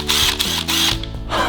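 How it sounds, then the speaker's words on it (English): A toy cordless construction drill whirs up close with a buzzing, ratcheting motor that cycles in short pulses, loud and alone with no talking. "This is a cordless drill. It gets power from its battery"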